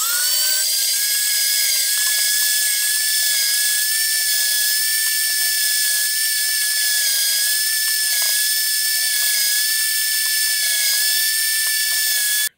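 A food strainer machine grinds apples into applesauce, giving a steady, high-pitched mechanical whine that holds at an even level throughout with no voices.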